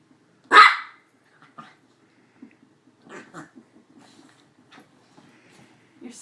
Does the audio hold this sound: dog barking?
yes